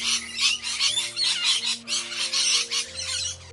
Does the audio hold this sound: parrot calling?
yes